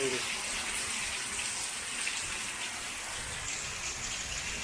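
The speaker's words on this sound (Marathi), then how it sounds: "सध्या ज्या सरी पडत आहेत ना त्या अशा जोरदार आहे मोठ्या मोठ्या म्हणजे असं पाणी जोरदार मोठ्या थेंबांचा पाऊस पडतो" Heavy monsoon rain in Konkan, with large drops pouring down in a dense, steady, loud wash of water that continues unbroken for the whole stretch.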